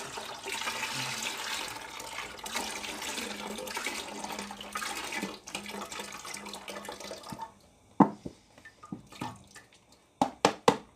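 Stock pours into a pot for gumbo, a steady liquid rush lasting several seconds before stopping, followed by a few sharp clinks and knocks of kitchen utensils and metal, with no talking.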